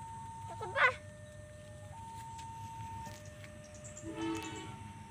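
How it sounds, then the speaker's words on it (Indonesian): Pasundan passenger train passing a level crossing from the west, heard faintly and at a distance with a short horn blast and a later tonal horn, over steady rumbling background noise; no speech. "Melintas kereta api Pasundan dari arah barat."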